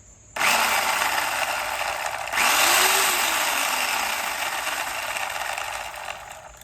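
A Portland 14-inch electric chainsaw from Harbor Freight whirs up with a sharp start, surges louder about two seconds later, then holds a steady high-pitched motor whine before easing off near the end.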